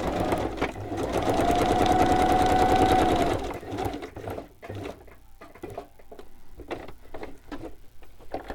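A sewing machine stitches a pocket flap in a fast, steady run, then slows to short bursts and single ticking stitches, close up and alone.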